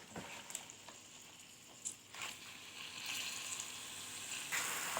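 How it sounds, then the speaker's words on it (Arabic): Swiss chard frying in butter or ghee in a pan, a soft steady sizzle with occasional stirring scrapes and clinks, quiet and close, gradually building slightly louder. "بنيجي في طاسه نحط الزبدة او السمنة او زيت الذرة، ايا يكن ايه هي المادة الدهنية بتاعتنا، وننزل بالسلق عليها"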